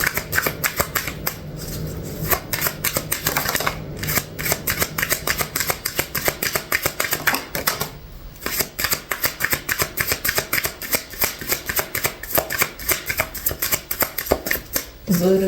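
Tarot cards are shuffled by hand in a continuous run of dense, crisp riffling and flicking close to the microphone, with a few brief slaps, and a voice speaking intermittently over it.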